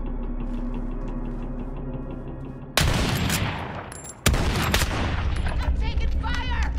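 Heavy gunfire in the Modern Warfare video game: two abrupt, loud bursts of shooting break into a low humming game background and keep sounding as sustained fire.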